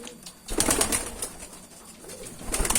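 Pigeons coo close by in soft repeated rolling calls, two clusters separated by a brief lull, with light rustling in the background.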